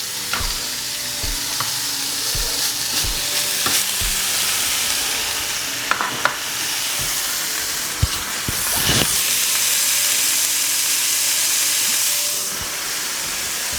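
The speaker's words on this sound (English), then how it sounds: "Now we're gonna throw beef on to cook for a short amount of time." Beef fries in a hot pan with a loud, steady sizzle and steamy hiss, broken by sharp utensil clanks and scrapes as it is stirred, swelling briefly before easing off.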